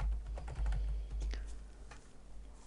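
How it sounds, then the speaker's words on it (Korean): Soft, quick keystrokes tap on a computer keyboard as Korean text is entered for a database exercise, a brief run of light clicks sitting low and fairly quiet in the mix. "미음 누르고 한자 키 눌러서 별표 다음에 관리 대상이라고 입력합니다"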